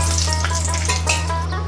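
Bay leaves and a dried red chilli hit hot oil left from frying potatoes, a loud, close, continuous sizzle with no talk, ahead of chicken curry.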